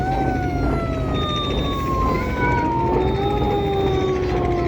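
A passenger launch on the Dhaka river route sounds its horn in dense fog, giving long, loud tonal blasts that slide slowly in pitch over a steady background rumble.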